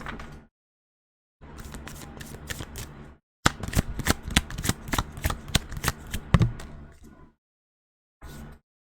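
A tarot deck being shuffled up close. Soft riffles come in short bursts, then a denser run of snapping, flicking card sounds, followed by a pause and one last brief shuffle, with no talking.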